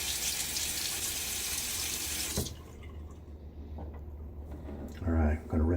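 Tap water runs steadily, close and loud, as a Gillette Sheraton safety razor is rinsed under it, then cuts off abruptly, leaving faint drips and handling sounds with brief talk near the end.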